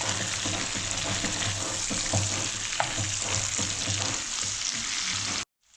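Chicken Afghani chap frying in a pan over medium gas heat, a continuous dense sizzle with light stirring clicks, ending abruptly in silence.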